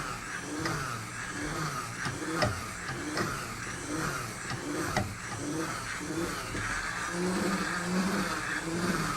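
A Flesh-All Mini-Flesher power tool shaves a hide on a board, giving a buzzing, hissing grind that rises and falls in short strokes over nine seconds, fairly close and steady, with no voices.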